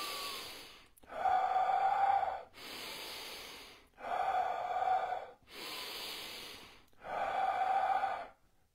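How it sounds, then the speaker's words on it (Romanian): Slow abdominal breathing, drawing air in through the nose and blowing it out through the mouth, in four loud, close breathy exhalations separated by brief pauses, alone with no talk. "Inspir pe nas, expir pe gură."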